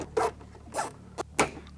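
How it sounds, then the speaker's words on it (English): Several quick ratcheting zips of a plastic zip tie being pulled tight in a BMW G20 330i engine bay, four short bursts in an uneven rhythm, close up. "can put it back down here and zip tie it in place"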